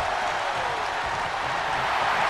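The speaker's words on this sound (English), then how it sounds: "The sound of this crowd is deafening, and he's asking for more." A wrestling crowd roars loudly and steadily without a break, a dense wash of cheering that fills the whole stretch with no clear voices standing out.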